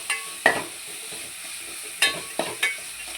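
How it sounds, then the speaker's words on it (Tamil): Tomatoes sauté with salt in a pan, a soft continuous sizzle broken by a few sharp clinks and scrapes of a stirring spoon, close and quiet, with no talk. "உங்களுக்கு தேவையான அளவுக்கு உப்பு இந்த போட்டுட்டு நீங்கள் வதக்க ஆரம்பிச்சிங்கன்னா இந்த தக்காளி சீக்கிரம் வதங்கிடுங்க"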